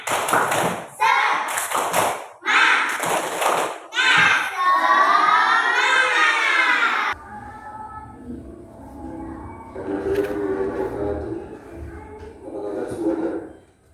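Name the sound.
children doing the rhythmic 'tepuk semangat' clap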